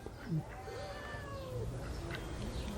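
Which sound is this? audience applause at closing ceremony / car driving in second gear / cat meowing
cat meowing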